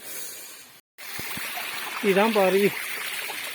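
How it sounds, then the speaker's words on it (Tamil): A small waterfall in the jungle of the Jawadu Hills gives off a steady, close rushing hiss of flowing water under a man's brief speech, with a momentary dropout in the sound. "ஸோ இதை டைனி அருவின்னு வேணால் சொல்லிக்கலாம்"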